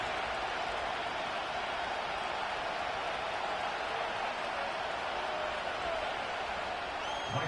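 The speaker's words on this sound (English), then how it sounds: "The crowd is alive" A dense, roaring crowd at Bank of America Stadium in an NFL playoff game in the Madden 25 video game, held as a steady, even wash of noise throughout.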